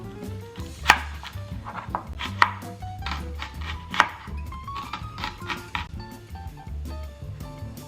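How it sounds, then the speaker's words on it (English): A knife chopping an onion on a board for zuppa toscana, with sharp, irregular close-up thuds, several harder strikes standing out, over a faint background of music. "Next, we are going to chop our onion."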